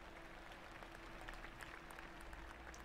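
Crowd applause in the Golf Club 2019 video game following a drive onto the fairway, a steady, soft wash of clapping lasting the whole moment with no voices over it.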